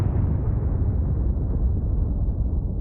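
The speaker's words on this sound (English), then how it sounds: "The sound of the huge blast would be heard at least 5 miles away." A recreated Gunpowder Plot gunpowder explosion leaves a loud, deep blast rumble that rolls and slowly fades across nearly three seconds.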